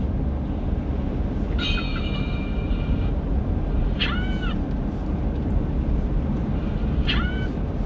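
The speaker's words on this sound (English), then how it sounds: "could be a train on the other side of the Arthur Kill" A steady low rumble of a distant train across the Arthur Kill on Staten Island runs throughout, with a few faint high squeals rising over it.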